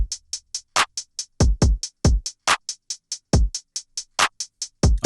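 A programmed FL Studio drum pattern fills every second step: crisp, evenly spaced hi-hat ticks alternate with deeper kick thumps in a fast, steady electronic loop, with no voices present.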